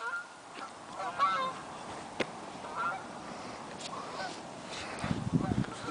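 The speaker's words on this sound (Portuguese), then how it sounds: "Olha os patos." Waterfowl calling beside partly icy water, a few honking, goose-like calls scattered over a quiet outdoor background, with a burst of louder nearby calls near the end.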